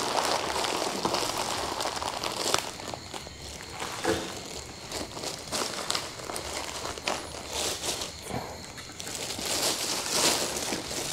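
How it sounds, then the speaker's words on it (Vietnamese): Steady rain falls outdoors, a continuous broadband patter with crinkling and scuffing like footsteps mixed in, moderately quiet and with no talking. "đây mưa."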